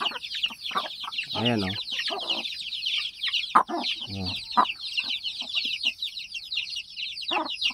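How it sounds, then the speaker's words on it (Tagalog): Several chickens in a rural Philippine yard, waiting for food, cluck and squawk nearby in busy, overlapping bursts, with a person briefly speaking among them. "Nandito na nga ang mga makukulit na manok"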